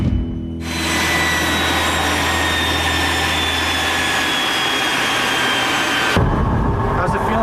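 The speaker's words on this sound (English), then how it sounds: "As a prototype for a turbine-powered car, the first Firebird was a rousing success." The GM Firebird turbine-powered concept car runs with a loud, steady jet-like roar and high whine that starts abruptly, holds for several seconds, then cuts off sharply.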